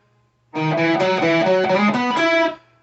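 Electric guitar plays a lick from a song, a quick run of picked notes and double stops with slides between them, lasting about two seconds, close and alone after a short silence.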